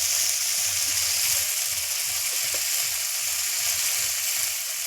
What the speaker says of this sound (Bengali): এবার আমি ভালো করে কষিয়ে নেবো মশলা।